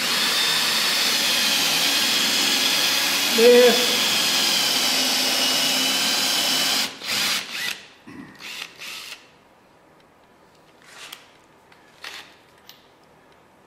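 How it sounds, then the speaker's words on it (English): A step drill bores a hole at the center point of a mortar and pestle workpiece, a steady loud whirring grind for about seven seconds that stops abruptly, followed by scattered clicks and handling knocks. "I use a step drill, and I come in here, you know, to my center point,"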